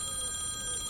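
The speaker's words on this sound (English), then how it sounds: "Meanwhile, the phone rang" A telephone rings in an office scene from an audio drama, a faint, sustained electronic trill held steadily throughout with no voices over it.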